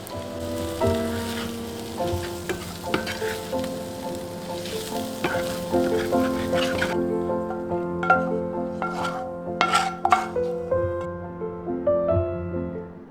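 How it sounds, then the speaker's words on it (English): Potatoes seasoned with salt and chopped coriander are tossed in a hot pan for a vegetarian party snack, giving a steady sizzle with scattered clinks and scraping as the food is stirred, with no talking. "Now it's time to season with salt and toss in some chopped coriander."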